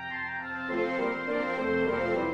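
Sustained orchestral music from MuseScore 2.1 playback using the Sonatina Symphonic Orchestra sound library, with layered strings and winds swelling gradually louder in smooth, held chords.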